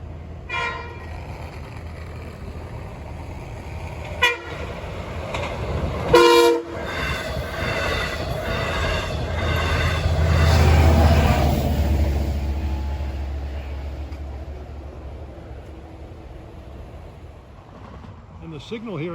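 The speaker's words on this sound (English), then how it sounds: "It's a Patchogue Jamaica train." A westbound Patchogue-Jamaica passenger train passes near Locust Avenue, with sharp horn blasts early on, then a swelling rumble and rail clatter that fades as it goes by.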